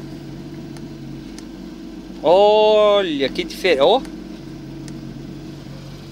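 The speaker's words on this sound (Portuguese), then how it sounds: "O barulho do motor agora mudou." A Porsche GT3 engine idles steadily, then is revved hard in a loud rising roar, followed by a second quick blip before settling back to idle. A person speaks briefly near the revs.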